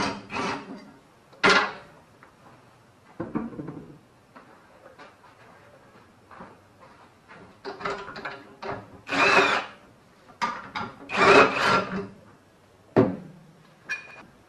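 Power tool, likely an impact driver or drill, taking 9/16 bolts off a go-kart axle on a Carter SPX kart, heard as several short, loud whirring bursts separated by quieter pauses and clanks.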